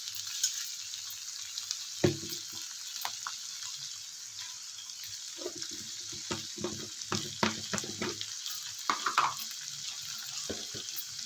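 Food frying in a pan with a steady sizzle, broken by scattered clinks and stirring knocks from a utensil, moderately close and without speech.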